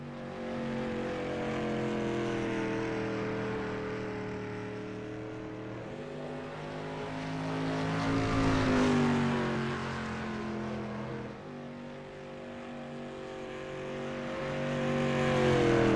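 A dirt street stock race car runs a qualifying lap at Knoxville, its engine droning steadily with rising and falling pitch as it revs through the turns, swelling louder mid-lap, with no talk over it.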